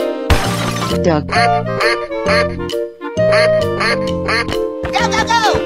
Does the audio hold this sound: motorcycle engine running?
no